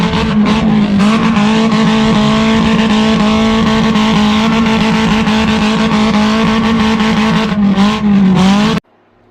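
A Hyundai Accent bump-and-run race car with a swapped 2.0-liter Beta engine holds a loud, close, steady high-rev drone at the rev limiter for over eight seconds, with slight stutters and possible tire squeal, then cuts off abruptly; no talking.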